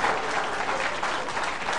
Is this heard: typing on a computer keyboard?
no